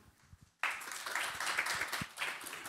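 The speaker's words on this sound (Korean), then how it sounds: "큰 박수 부탁드립니다" Applause at a 2025 KOSI symposium session bursts in after a quiet moment and carries on as dense, steady clapping from a hall audience.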